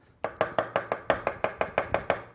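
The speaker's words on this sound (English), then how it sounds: "we're going to do some shiitake mushrooms, okay. Just cut those stems off." A knife chops shiitake mushroom stems on a cutting board in eleven quick, evenly spaced strikes, crisp and close with no talking.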